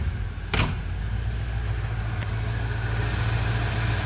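A freshly re-coiled engine that had been flooded keeps running at a steady idle, a continuous low rumble with a faint tonal hum throughout and a brief sharp clank near the start.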